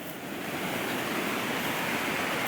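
Lower zone 4 lawn sprinkler heads spray water along a lawn edge toward the listener, making a continuous hissing wash that stays at an even, fairly close level with no voices.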